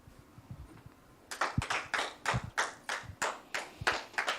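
A church congregation claps in praise, starting with scattered taps and then settling into a steady, fairly loud rhythm of about two claps per second that echoes through the hall.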